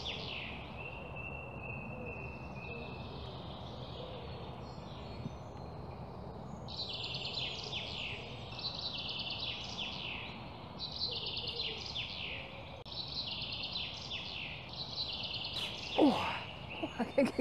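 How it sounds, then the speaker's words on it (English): Birds sing in a woodland in the morning, with repeated bright chirping phrases and warbles over a soft outdoor background, a few calls nearer and clearer than others, no talking. "And the bird song this morning has been glorious."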